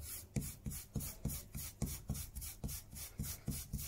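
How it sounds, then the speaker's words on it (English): A Garryflex abrasive block rubs rust off a Stanley knife blade in quick, even back-and-forth strokes, about three a second, each a short close-up scraping rasp. "going over with the Gary Flex block, you can get all that rust off"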